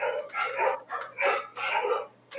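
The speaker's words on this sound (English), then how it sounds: "Do you hear my dogs?" Several pet dogs bark excitedly in a home as the owner's wife arrives, a run of overlapping yips and barks in uneven bursts, moderately near, without speech.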